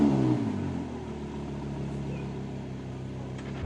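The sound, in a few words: Yamaha XSR900 motorcycle engine on demo ride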